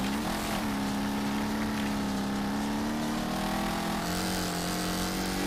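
A race car engine drones steadily in the Wreckfest video game, its tone rising and dipping as the car rides over dirt-track bumps, with a shift in pitch partway through; loud and continuous, with no talking.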